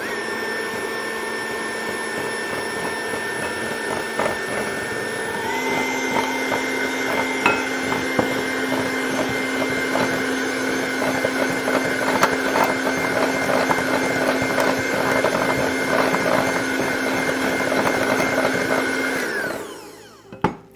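An electric mixer beats granulated sugar for almond slice cookie batter, a steady loud motor whine holding for about twenty seconds before cutting off abruptly at the end.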